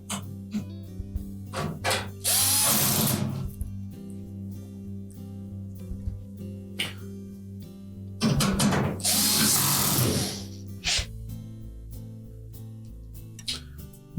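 Screws are driven into a Frigidaire washer's sub-mounting bracket in two bursts of close, buzzing power-driver whir. Scattered clicks and light handling knocks fill the gaps between them.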